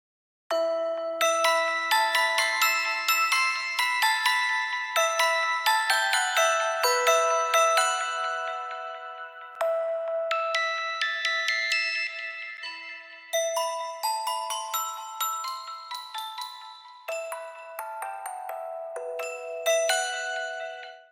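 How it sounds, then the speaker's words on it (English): A layered music box melody within a scary electro house track plays bright, tinkling plucked notes in a repeating tune, clear and alone, with short pauses between phrases. "Add layered music box."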